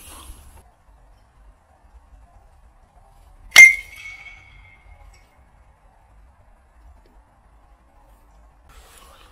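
A single sharp metallic clink rings out as a baseball bat strikes a lamp, decaying briefly in an otherwise quiet space.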